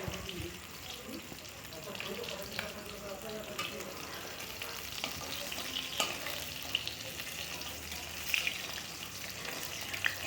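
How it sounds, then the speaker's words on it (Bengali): Pieces of fish rubbed with salt and turmeric frying in hot oil, a soft continuous sizzle with scattered crackles and a few stirring or handling clinks, fairly quiet and close. "মাছগুলো ভালো করে লবণ হলুদ দিয়ে মেখে নিয়ে এখন ভেজে তুলে নেব"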